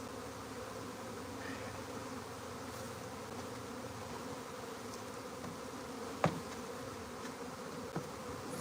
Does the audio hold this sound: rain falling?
no